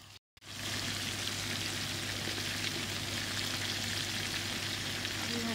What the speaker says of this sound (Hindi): अभी इसको मैं 2 मिनट के लिए दोनों को भूनूंगी सिर्फ बटर में